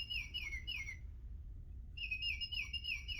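An oriole sings from a tree in a yard: a loud, clear whistled phrase of several descending notes, a second's pause, then the song repeats, fairly near against a quiet low background hum.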